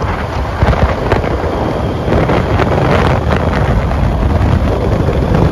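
Steady wind roaring and buffeting against the microphone on a ride into a forest, loud and continuous throughout with no voices.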